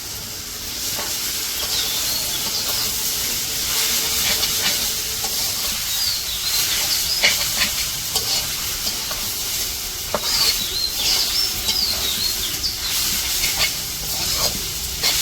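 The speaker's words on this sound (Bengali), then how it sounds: "এদিকে পেঁয়াজ কাঁচামরিচ ভাজা হয়ে গেছে, এখন শাক দিয়ে দিব।" Jute leaves hit a hot pan of fried onions and green chillies in a village kitchen, giving a loud continuous sizzle and hiss with scattered crackles while they are stirred.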